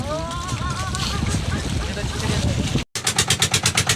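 A boat's engine runs on the water, first blending with talk and a whistling tone, then after a short break it thumps out a clear, steady rhythmic chug close by.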